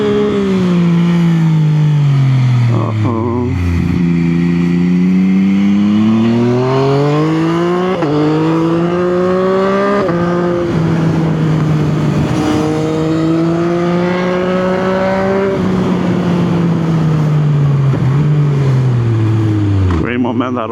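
A 2021 Yamaha MT-09 naked motorcycle with a quick shifter is ridden hard. Its engine note climbs and falls repeatedly through the gears, loud and close, and is sustained for the whole stretch.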